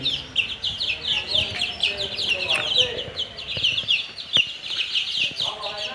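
Tiger-breed chickens on a farm cluck and chirp repeatedly in a busy, overlapping chorus, fairly close and continuous.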